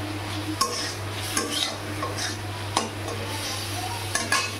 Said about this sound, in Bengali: মাছের আলুগুলো দিয়ে একটু কষিয়ে নেবো ভালো করে